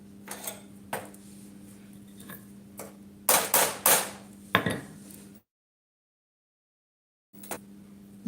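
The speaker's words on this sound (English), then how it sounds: "It is pretty tight, that's why I'm hammering it." Metal secondary air tube for an oil gun heater being hammered into a tight fit, a handful of sharp close metallic knocks, clustered strikes in the middle, then a gap of silence.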